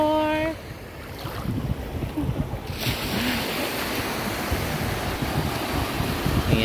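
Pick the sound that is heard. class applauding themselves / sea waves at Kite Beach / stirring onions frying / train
sea waves at Kite Beach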